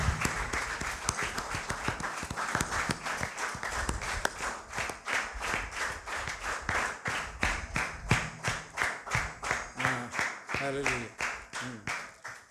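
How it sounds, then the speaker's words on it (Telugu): A church congregation claps together during a Sunday service, a dense, steady run of rhythmic applause that grows more clearly beat-driven toward the end, with voices faintly mixed in. "ఒక 2 నిమిషాలు చప్పట్లు కొడదాం."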